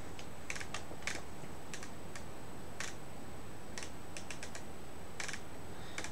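Quiet, irregular keystrokes on an unfamiliar computer keyboard tap out in short bursts and single clicks, with no one talking.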